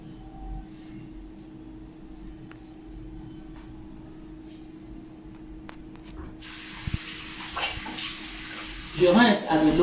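Lukewarm tap water runs during a night-time skincare routine while the face is rinsed. A steady faucet hiss fills the background, then close splashing breaks in as water is scooped and pressed against the skin near the end.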